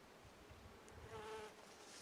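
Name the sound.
bees and flies buzzing around flowering bush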